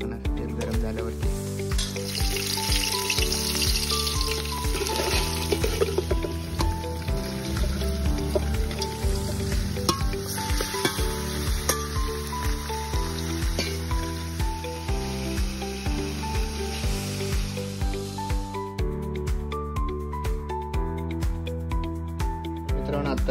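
Mutton and oil sizzle loudly in a pan over a wood-fired chulha, a steady, continuous frying hiss with no talk over it.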